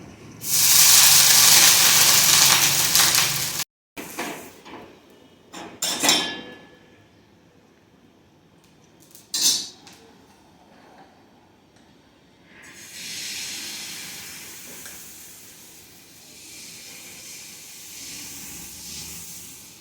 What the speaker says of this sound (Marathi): आता परत आपल्याला तवा गरम करायचा आहे आणि थोडंसं पाणी मारायचं आहे